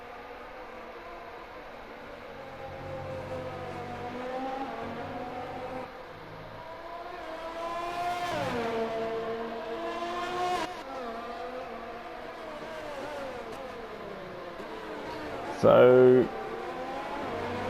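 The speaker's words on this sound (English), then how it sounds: "the McLaren is run by a Honda engine. And it sounds very, very nice" McLaren Honda engines in the racing game F1 2020 whine past with rising and falling pitch sweeps, engine tones overlapping and fading over a constant low hum, while someone talks over them.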